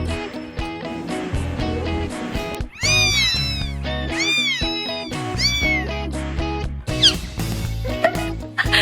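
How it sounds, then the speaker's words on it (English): Kittens meow repeatedly in short, bright calls, several overlapping and close, over a busy, steady background bed. "Today we're watching kittens turn ordinary moments into complete chaos."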